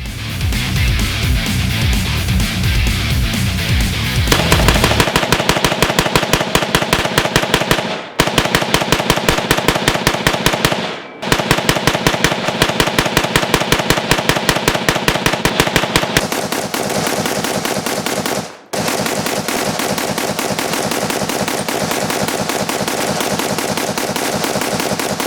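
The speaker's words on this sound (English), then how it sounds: "So I'm going to do 500 rounds, semi-auto only, and we're going to see how the Suns rifle holds up." A Sons of Liberty Gunworks Lone Star Edition rifle fired semi-auto, loud close shots in rapid, evenly spaced strings with brief pauses between strings, continuing for the whole stretch.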